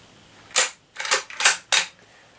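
The bolt of a bolt-action rifle is worked by hand, four crisp metallic clacks in quick succession, close and clear with no talk over them.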